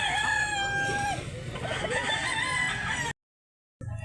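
A rooster at a chicken market in Mantalungon, Barili, Cebu crows loudly and close, one long drawn-out call lasting about three seconds, followed by a brief silence and then more crowing.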